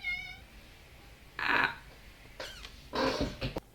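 A voice imitates a cat, giving a few short meows spaced apart over a quiet background hiss.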